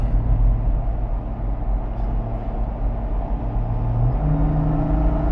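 An INEOS Grenadier SUV with a BMW engine accelerates, a steady engine drone and road rumble heard from inside the cabin, its pitch rising in a stepped shift near the end.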